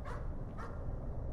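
Dog barking in the horror game Layers of Fear, two short barks over a steady dense background rumble.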